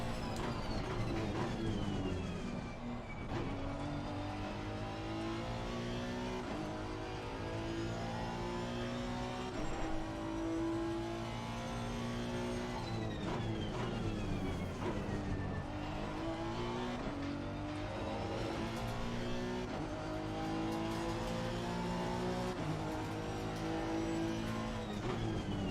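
Race car engine from the racing game Assetto Corsa Competizione drones steadily at high revs throughout, shifting pitch with gear changes under sparse, quiet talk.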